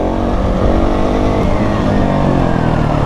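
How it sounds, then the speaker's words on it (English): A motorcycle engine revs hard and close while accelerating in second gear into a wheelie, a loud continuous drone that climbs steadily in pitch with no pause. "Second gear, I'm accelerating."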